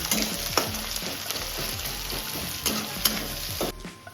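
Green chillies fry in a hot pan for a spicy small-potato aloo dum cooked with mutton fat, giving a loud continuous sizzle broken by several sharp stirring scrapes and spatula knocks, with no voices.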